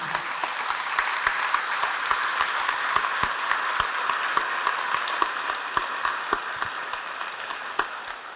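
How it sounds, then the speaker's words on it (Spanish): A congregation applauds Jesus during a Catholic priest's Spanish-language sermon, with sustained, even clapping from a crowd filling the whole stretch and individual claps standing out in a steady wash. "Fuertes aplausos a Jesús."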